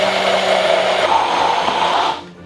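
An immersion blender runs in a peanut oil sauce, a loud steady motor whir with a slight shift in pitch partway through, then it winds down and stops near the end, no talking.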